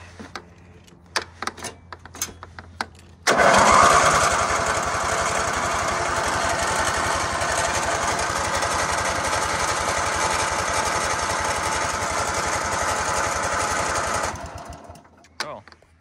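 A $20 used riding mower engine cranks and catches after a few knocks and clicks, then runs loud and steady for about ten seconds before winding down and stopping.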